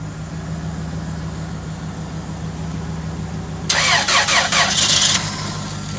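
A Jeep Grand Cherokee's 5.2-liter V8 with a 3-inch exhaust fires up: a low steady hum gives way to a loud, rough burst of starting noise that lasts just over a second before settling back down.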